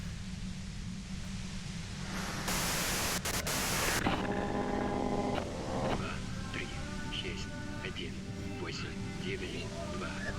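Radio white noise static from Disco Elysium, a loud broadband hiss that surges into a harsh burst of noise midway, then carries on beneath speech and a tuneful musical layer.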